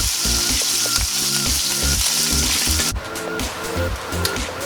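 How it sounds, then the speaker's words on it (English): A steak sears in a hot pan with a steady, loud sizzle and broadband hiss, joined by rhythmic low thumps and scraping; partway through the sizzle briefly dips and shifts, as if the meat is turned, then carries on. "You just want to create a nice sear on the steak and also creating fond at the bottom of the pan"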